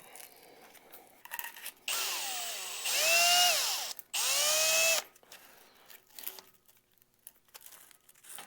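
A power drill spins a homemade sandpaper spindle on a quarter-inch rod in short bursts, ramping up and winding down three times with crinkling and rustling between runs; close, no voices.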